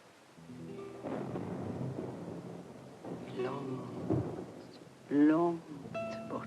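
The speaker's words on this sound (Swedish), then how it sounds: "Nu blir det åskväder." Distant thunder rolls as a low, drawn-out rumble with soft rain beneath, heard indoors while voices talk quietly over it, the rumble swelling and fading across the scene.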